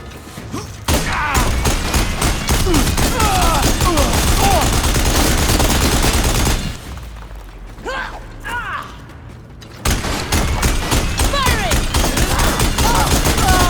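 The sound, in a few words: gunfire from video game Horizon Forbidden West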